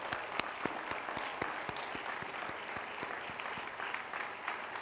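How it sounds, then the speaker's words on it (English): Audience applause at a university commencement address, a dense steady patter of many hands clapping throughout, moderately distant and even in level, with no speech over it. "So let's give them all a very big round of applause."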